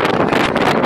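Strong wind buffets the microphone on a hilltop at Haughmond Hill, Shropshire, a loud, continuous roaring rumble with gusty surges and no voices.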